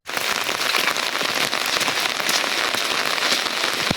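Heavy monsoon rain pours down on a village hillside, a loud, dense and continuous patter of drops with no voices.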